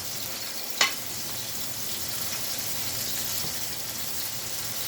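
Pork tenderloin is pan-seared in oil, giving a soft, steady sizzle heard close but fairly quiet. A single sharp tick near the start breaks the even hiss.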